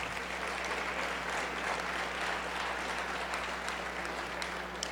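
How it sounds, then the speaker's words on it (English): Dense, steady applause from a large crowd filling the room at an even level for about five seconds, over a low constant hum. "Let's give ourselves a round of applause."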